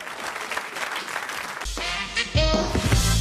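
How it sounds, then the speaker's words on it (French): A radio studio audience at a comedy joke show applauds, fairly faint at first, before music swells up and takes over near the end. "Je vous demande d'applaudir encore Raymond Partouche, le roi des bonimenteurs"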